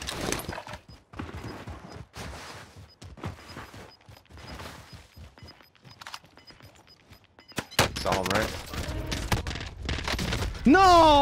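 M16 burst rifle fire in Call of Duty Cold War Warzone crackles in quick clusters of sharp shots, with a louder burst toward the end, while someone talks over the action.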